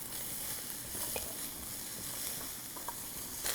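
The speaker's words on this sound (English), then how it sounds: "So my wok sizzles away, stronger than most gas that you have at home" Food sizzles steadily in a hot flat-bottom wok on an induction cooker, a dense, even crackling hiss with a few small pops, close and fairly quiet with no voices.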